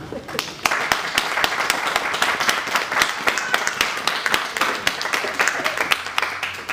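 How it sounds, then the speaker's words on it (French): Audience applause at a fairground festival mass honouring the fairground queen, a dense, steady clatter of many hands filling the space, close and loud, holding evenly throughout. "Nous pouvons l'applaudir."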